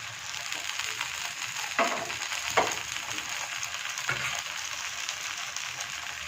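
Oil sizzling in a kadhai for an oats chila, a steady soft frying hiss throughout with a few brief scraping clinks from a spatula, close and moderately quiet, no talking.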